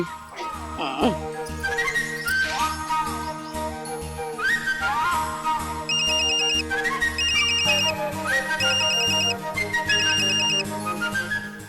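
A mobile phone plays a loud, bright electronic ringtone melody, a repeating tune over a pulsing beat that runs continuously without speech.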